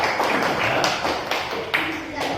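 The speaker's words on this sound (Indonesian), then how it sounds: "Tepuk tangan dari kelompok Pak" Group applause in a classroom, a burst of scattered hand claps with a few sharper distinct claps, close and fairly loud, mixed with voices chattering underneath.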